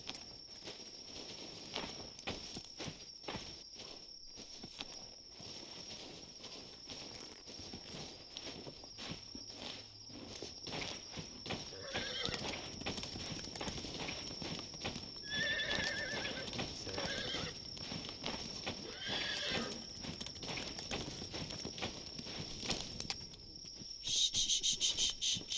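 In The Vale: Shadow of the Crown, a horse's hooves clop and it whinnies amid chirping crickets, with the hoofbeats picking up through the middle and a louder burst at the close.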